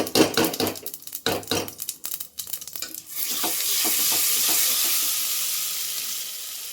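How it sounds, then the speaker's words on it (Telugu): Mustard seeds and cumin sizzle in hot oil in a pan, opening with a few sharp clinks and stirring scrapes before settling into a steady, close frying hiss. "నూనె మంచిగా కాగింది కదా, 1 టీ స్పూన్ ఆవాలు, 1 టీ స్పూన్ జీలకర్ర వేసేయండి"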